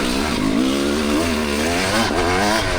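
A 25-year-old Kawasaki KX250 two-stroke dirt bike engine revving hard while riding, a loud continuous buzzing drone whose pitch wavers up and down, no talking.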